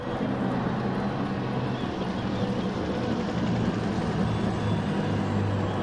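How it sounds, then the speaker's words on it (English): At the start of a race in a GT racing game, race car engines hum in a steady, muffled drone, with low rumble filling the clip and no speech. "We hear some engines, we hear some horns,"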